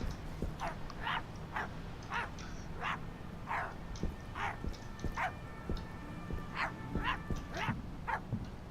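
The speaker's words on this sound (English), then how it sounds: "Oh look, it's a dog." A dog in the game My Friendly Neighborhood barks repeatedly in short, evenly spaced yips, about a dozen sharp barks over a low background hum.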